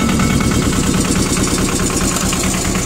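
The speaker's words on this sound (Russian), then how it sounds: "Трактор запускается" A small two-wheel-drive compact tractor engine running right after starting, loud and close, with rapid even diesel knocking pulses and a steady mechanical drone, no talk over it.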